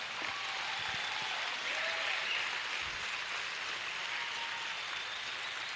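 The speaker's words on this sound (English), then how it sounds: "So please give them a round of applause." Steady crowd applause at a Northwest Iowa showdown event, dense and even throughout with no break, like a continuous wash that stays level from start to finish.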